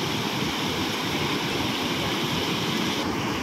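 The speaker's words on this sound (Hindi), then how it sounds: "पानी कितनी ज़ोर से बह रहा है।" The Godavari River rushes strongly past Panchavati in Nashik, making a steady, loud, dense roar of flowing water with no pauses.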